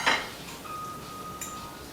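Utensils clink against a pan while rotini pasta is stirred into a tomato and sausage sauce: a brief clatter at the start, then a faint ringing tone and a soft clink near the end.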